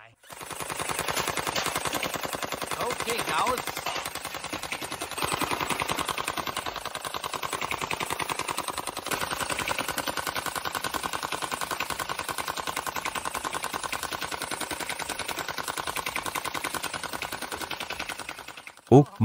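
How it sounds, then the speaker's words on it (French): Gel blaster firing a long rapid stream of gel balls at red cups, a steady dense rattle of shots lasting many seconds with faint voices underneath and a couple of sharper knocks at the end. "nous allons tirer sur ces gobelets rouges"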